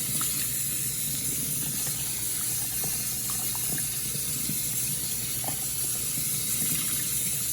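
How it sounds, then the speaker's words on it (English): Cabbage rinsed under a running kitchen faucet, a steady close rush and splash of water into a sink with small irregular splatters as the leaves are moved, continuous and without talk. "Here, we done rinsed out the cabbage real good."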